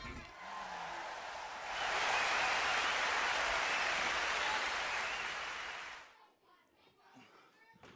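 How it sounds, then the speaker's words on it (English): Outdoor children's church service in a park: quieter background gives way to a swell of crowd applause for contestants that holds for several seconds, then fades out as a voice starts speaking. "Let's have a round of applause for all of our amazing contestants."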